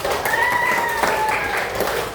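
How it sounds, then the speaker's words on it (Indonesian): A primary-school class claps together, a fairly loud, dense patter of many small hands, with a voice singing or calling over it early on. "Beri tepuk tangan."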